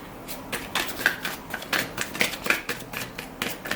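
Tarot cards are shuffled and drawn by hand in a close, crisp run of quick riffling flicks and slaps, with no talking.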